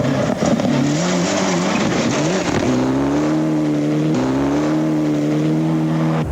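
Andrew Hawkswood's rally car at Rally Nelson 2004 in New Zealand, after a puncture at the second ford, struggling on a punctured tyre. Its engine roars loud and close throughout, revving and holding a steady, strained drone.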